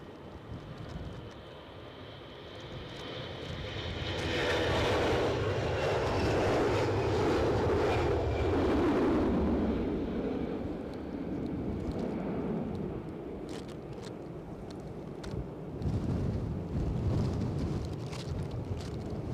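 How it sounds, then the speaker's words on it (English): EasyJet airliner rolling down the runway at Edinburgh airport in strong gusty wind, a jet roar that swells to a loud sustained rumble and slowly fades, with wind buffeting the microphone. "This rolling EasyJet whilst we're waiting."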